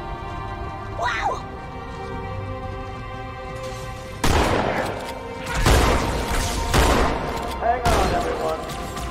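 Turret gunfire in Halo 2 comes as loud, heavy bursts, three or four separate volleys of rapid fire with a spoken voice over the top.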